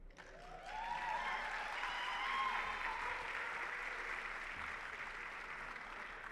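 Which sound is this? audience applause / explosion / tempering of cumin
audience applause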